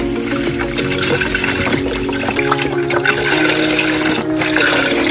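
Beef broth, about 32 ounces, pours into a soup pot for vegetable beef soup on high heat, a steady close liquid gushing and splashing that runs for several seconds with no pauses.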